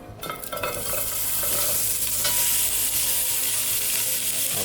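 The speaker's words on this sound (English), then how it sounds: "Should get a nice little sizzle." Onions sizzling as they fry in shimmering oil in a pot for carrot ginger soup, a loud continuous hiss with a few stirring clatters near the start.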